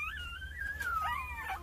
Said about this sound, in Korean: 아직 자리를 못 잡은 새끼 강아지 한 마리가 낑낑대네요.